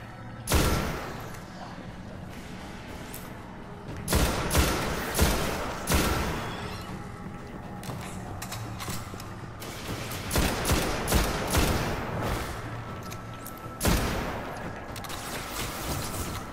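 Bursts of gunfire in the video game Destiny crack out repeatedly, some in quick volleys and others as single shots, over a quiet background.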